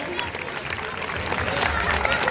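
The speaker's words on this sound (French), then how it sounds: "Vous pouvez applaudir bien fort, vous applaudir bien fort." Spectators clap loudly at a youth football tournament in Aveyron, a continuous dense applause from a sizeable crowd lasting the whole moment, with some voices mixed in.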